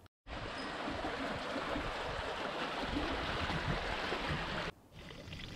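A babbling stream flows steadily through the canal town of Gujo Hachiman, a close, even rush of water that cuts off abruptly near the end and leaves a quieter trickle.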